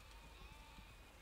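Sheep bleating in the video game Overlord: Raising Hell, a faint bleat tucked under quiet ambient game music, followed by a brief sharp click at the end.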